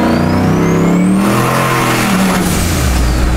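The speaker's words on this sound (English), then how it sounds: "The fucking burnout." An 800 whp race truck does a burnout on the street, its engine roaring loud and close with rising revs and a dense wash of tire and exhaust noise throughout.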